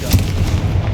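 A Confringo fire curse in Hogwarts Legacy goes off as a short, heavy explosive blast with a booming low rumble that dies away within a second.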